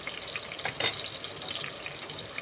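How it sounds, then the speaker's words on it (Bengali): Onions frying lightly in a pan in a home kitchen, a soft, close sizzle with a crackling texture and an occasional brief stir or scrape partway through. "এই পেঁয়াজটাকে একটু হালকা ভাজা ভাজা করবো"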